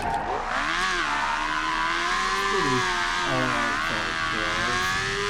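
A small car's engine revving in the Project Burnout racing game mod, a high whining tone that climbs and dips through several gear changes, loud and continuous, with a faint tire squeal midway.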